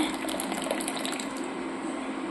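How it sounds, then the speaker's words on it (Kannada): Warm water pours into a bowl for pizza dough in a brief, steady, close gush with no pauses. "ಸೊ ಒಂಜಿ ಅರ್ಧ ಬೌಲ್ ಬೆಚ್ಚ ನೀರು ಎತ್ತೊಂದುಲ್ಲೆ"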